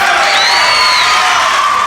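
Crowd at a 1997 District 29 wrestling match, loud and close, a dense sustained roar of cheering with a shrill whoop or whistle rising over it.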